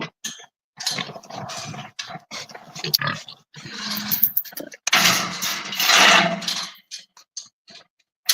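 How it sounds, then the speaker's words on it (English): On a farm, a sow with piglets grunts and squeals in irregular bursts of varying loudness, close by, separated by short quiet gaps, with no talking. "So this one's a newer mama, so she's still a little protective of her piglets"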